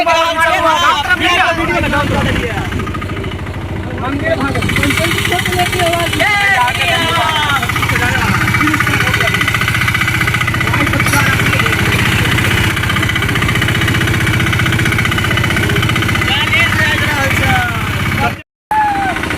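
A tempo auto-rickshaw engine drones steadily and loudly throughout a slow village ride, with a constant rattling mechanical hum under excited chatter from children and passengers.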